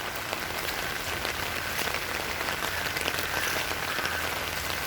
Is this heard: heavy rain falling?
yes